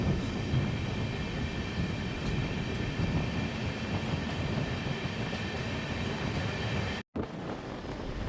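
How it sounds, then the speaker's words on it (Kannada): Chamundi Express pulling out of Maddur station, a steady low rumble of carriages with faint tonal hum above, even and moderately quiet, broken by a momentary dropout near the end. "ನಮ್ಮ ಟ್ರೈನ್ ಮದ್ದೂರಿಂದ ಹೊರಟಿದೆ"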